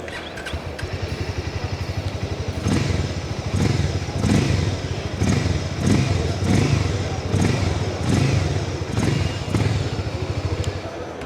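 A Harley-Davidson X440 motorcycle with a single exhaust idles with a steady, throbbing rumble close by, then is blipped through several rhythmic revs that swell and fall in loudness, with some mechanical clatter.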